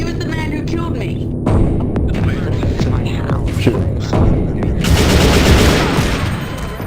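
Rapid gunfire in the video game Garry's Mod, loud close bursts and a sustained volley toward the end, mixed with thumps and brief voices in the game's chaotic scene.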